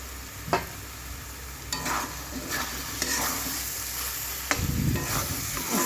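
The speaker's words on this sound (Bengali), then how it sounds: "মশলাটা দিয়ে দিয়েছি দিয়ে ভালো করে কষিয়ে নিতে হবে যাতে মশলার গন্ধটা না থাকে আর তেলটা যাতে ছাড়ে" Spice paste fries in hot oil in a pan for a country chicken curry, giving a constant loud sizzle broken by several sharp scraping stirs of a spatula against the pan.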